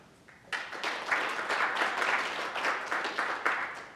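An audience applauds as a show-of-hands vote on which party should control Congress, starting abruptly and building into a full, even roar of clapping that holds for several seconds.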